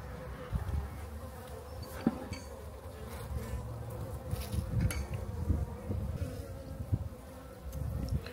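Honey bees buzz inside a hive, a dense, continuous drone of many wings close by with small shifts in pitch and loudness and no talking.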